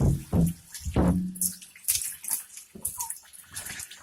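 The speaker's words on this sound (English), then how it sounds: "we will make sure to rinse off the outside too" Water splashes and rinses over the outside of a glass aquarium used to house rats, coming in uneven close gushes and spatters from a tap or sink, with no talking.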